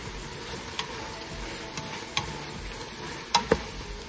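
Zucchini sizzles softly in a pan, a faint continuous fry with a few sharp clicks of a utensil as the pieces are gently stirred, the two loudest taps landing close together near the end.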